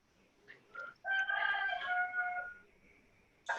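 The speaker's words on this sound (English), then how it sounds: "That was Ashley's chicken." A hen-keeper's rooster crows once from a short distance, a rising, drawn-out cock-a-doodle-doo lasting over a second, preceded by a few short clucks and ending with a brief sharp sound.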